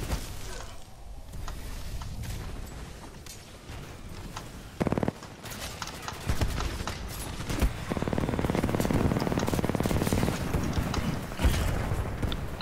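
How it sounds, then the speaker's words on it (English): Gunfire and explosions keep sounding during a Titanfall 2 match. A dense wash of shots, thuds and booms plays at a moderate level, with bursts that grow heavier toward the end. "What type of gun is that? There's so many explosions."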